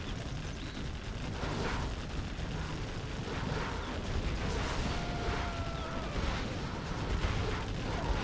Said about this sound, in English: War factory going down.